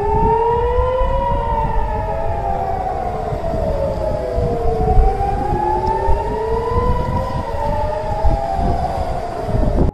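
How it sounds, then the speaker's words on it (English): Air-raid siren linked to Israel's Iron Dome missile defense, a loud continuous wail with several harmonic tones rising and falling in slow overlapping sweeps, steady over a rumbling background, with no talking. "The siren sounds like the baby of a ghost who fucked an ambulance"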